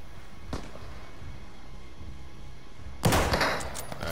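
Gunfire in the Call of Duty video game: a sharp single shot early on, then a louder burst of rapid shots near the end, over a steady game background with no talk.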